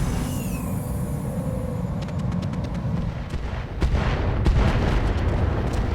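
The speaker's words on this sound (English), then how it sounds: "I think we might be able to get rid of most of them with an airstrike" An airstrike in the RogueTech Flashpoint mech game brings a string of heavy explosive booms and rumbling impacts that grow louder toward the end, with no talking.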